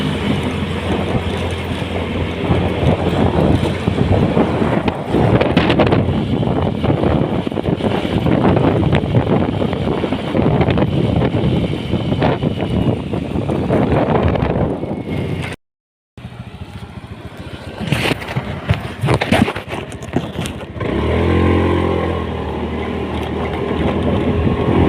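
Wind roaring steadily across a microphone while riding in traffic, loud and continuous with gusting buffets, a brief dropout midway, mixed with road and vehicle rumble.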